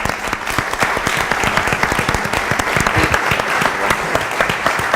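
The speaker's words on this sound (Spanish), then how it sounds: "agradecemos a nuestros invitados con un aplauso" Audience at a panel discussion on film coproduction applauds the invited guests, a loud, continuous wash of dense clapping with crisp individual claps standing out across the whole stretch.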